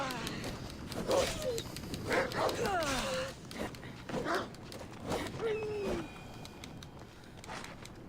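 A dog in the game Assassin's Creed Odyssey gives several short barks and whimpers at mid distance, scattered across the scene and mixed with ambient game sounds and a person talking.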